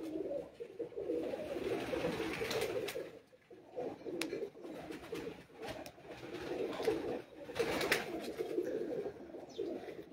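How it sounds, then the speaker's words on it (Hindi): Pigeons coo from a rooftop flock in Kandian during a pigeon-flying session, a steady low murmuring close by, broken by a few brief sharper sounds. "ये देखें जी कबूतर"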